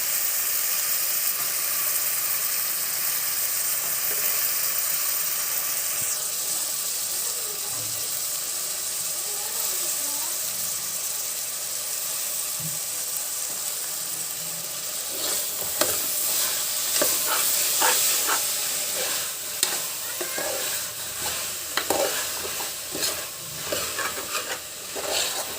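Capsicum, carrot, beans and potato fry in plenty of oil for pulao, with a constant loud sizzle and, later, a rapid run of scraping, clattering stirs close by.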